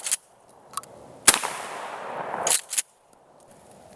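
Mossberg 500 shotgun firing Federal Premium 2 3/4 inch magnum 1 5/8 ounce slugs at about 20 yards: a loud boom with a long rumbling tail, followed by a couple of sharp pump-action clacks, no talk.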